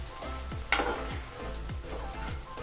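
Prawns fry in a pan with a steady sizzle, while a utensil stirs through them in regular strokes about every half second. A brief louder scrape lands near the start.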